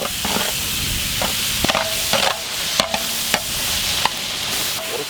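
Tomatoes and green chilies hit a hot pan with curry leaves for a tiny river fish curry, giving a steady close sizzle broken by irregular stirring scrapes and clicks, with no talking.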